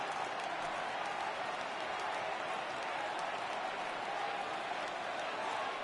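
A crowd in the MLB The Show baseball video game roars in a steady, dense wash of cheering and applause that holds at an even level throughout.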